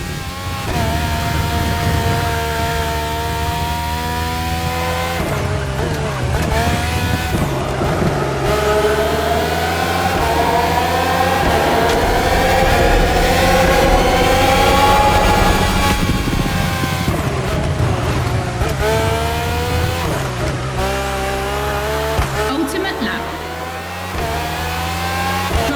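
A Red Bull Formula 1 race car with Renault and Honda engines roars in The Crew Motorfest racing game, loud high-pitched engine whine rising and falling through repeated gear shifts and revs, sustained and close throughout.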